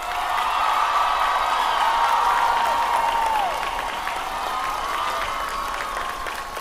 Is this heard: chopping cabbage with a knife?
no